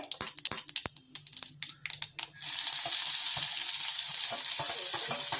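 Sliced onions drop into hot oil with popping mustard seeds in a home kitchen: a scatter of sharp crackles and taps, then a loud steady sizzle that fills the rest.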